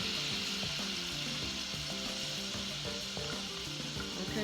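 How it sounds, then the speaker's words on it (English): Bourbon cooks off in a hot pan with a dense, loud, continuous sizzle and crackle, and a bubbling rhythmic undertone runs through it. "we're going to cook the liquor off of the bourbon"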